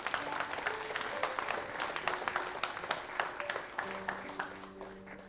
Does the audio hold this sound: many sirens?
no